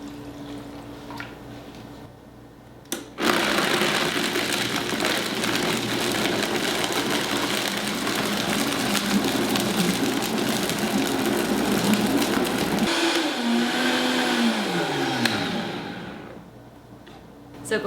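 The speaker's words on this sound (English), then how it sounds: "I had just enough water to blend it up." A blender whirs through kale, ginger and water in a home kitchen, running steadily and fairly loud for about ten seconds before the motor winds down, with a short pause near the start.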